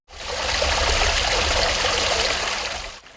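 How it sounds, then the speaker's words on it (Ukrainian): Cascading waterfall in the garden of a monastery in Stroientsi, built by craftsmen, giving a steady broadband rush of falling water that swells in and holds evenly for about three seconds before cutting off, close and loud with no voices. "Монастирську тишу в Строєнцях наповнив звук водоспаду."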